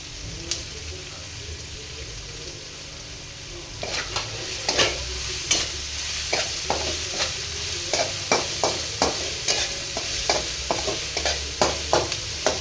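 Capsicum tossed into onions frying in a pan for Hakka noodles, a low steady sizzle joined partway by regular scraping stirs of a spatula, close and moderately loud.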